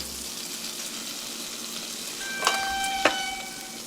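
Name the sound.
bacon frying in a pan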